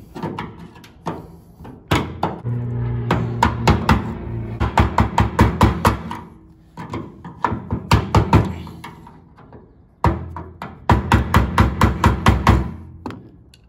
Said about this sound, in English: just gonna get a hammer on it and I think we'll have it